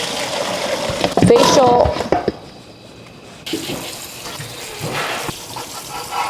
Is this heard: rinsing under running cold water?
yes